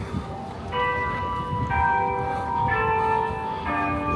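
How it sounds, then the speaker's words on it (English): Clock tower bells ring out in a slow sequence of clear, resonant strikes, each tone hanging in the air over faint town street ambience in the UK. "The bells are ringing"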